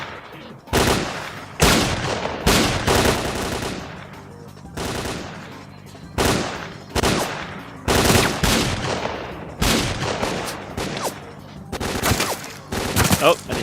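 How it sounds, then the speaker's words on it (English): Enemy gunfire in the shooter game S.T.A.L.K.E.R.: Clear Sky, with repeated loud bursts of automatic and single shots in irregular clusters, separated by brief pauses and occasional echoing tails, close and forceful. "Oh, are they shooting at me now?"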